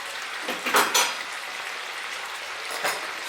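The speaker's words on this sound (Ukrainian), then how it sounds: "і підсмажуємо нашу печінку" Chicken liver frying in a pan at home, a soft steady sizzle with a few light scrapes and clinks of a utensil against the pan, fairly quiet.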